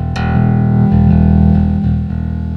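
Bass guitar played through a Nux NBP-5 Melvin Lee Davis bass preamp and DI pedal, a sustained distorted low note ringing steadily while the volume knob is adjusted, with a few soft re-attacks and no talking.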